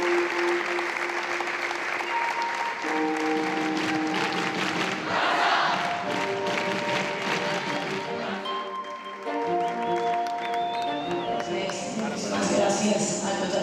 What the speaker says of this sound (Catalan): un gran aplaudiment per a aquesta jugadora de jaqueta estal